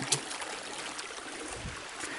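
Creek water flowing steadily in a forest stream near a waterfall along the Oak Rim Trail in Tug Hill State Forest, a continuous close broadband rush and trickle with no voices.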